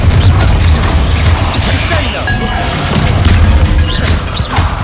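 Fire spell blasts and crashes erupt in a Hogwarts Legacy wizard duel, loud booming impacts over dense continuous battle noise with brief spoken shouts.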